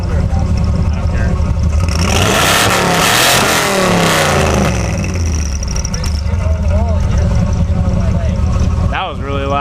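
Ford F100 pickup truck engine revving hard with a turbo whistle, a loud rising roar and whine that swells and falls, with people talking and a sharp burst near the end.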